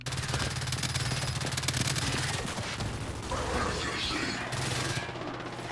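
Rapid machine gun fire in the Gears 5 multiplayer shooter, dense bursts of shots rattling loudly for the first few seconds, then fading into other game effects and background noise.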